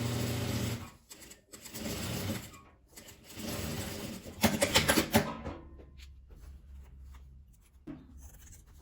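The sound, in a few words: sewing machine stitching a fabric scrap key holder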